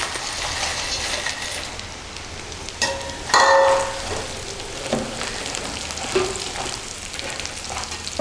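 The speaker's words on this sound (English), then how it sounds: "add the soya protein itself and then stir it around so it soaks up some of the oil" Soya protein sizzles and fries in oil with onions, a steady close crackle running throughout, with a few sharper clatters and scrapes of stirring partway through.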